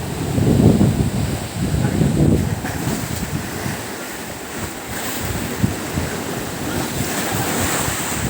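Strong surf pounds a beach at Calatagan, Batangas during a storm, with heavy wind buffeting the microphone; the waves surge loudest early on, then a steady windy wash continues, with voices faintly present.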